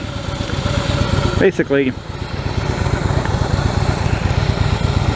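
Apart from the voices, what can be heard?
2016 Harley-Davidson Fat Boy S motorcycle engine idling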